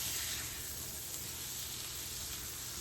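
Garlic and spices frying in a pan, a steady soft sizzle and hiss continuing evenly without pause, fairly quiet.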